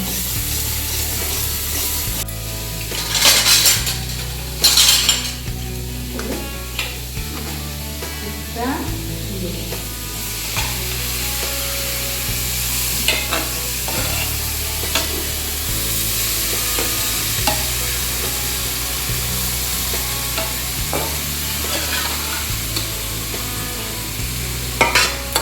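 Spices and banana flower stirred in a frying pan, a continuous sizzle with repeated scraping strokes of a spatula and a few louder clanks, running steadily without speech.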